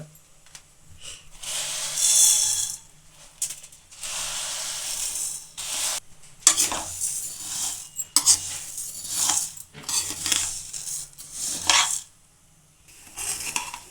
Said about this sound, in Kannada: ಶಾವಿಗೆ ಒಂಚೂರು ಹುರ್ಕೊಳ್ಳೋಣ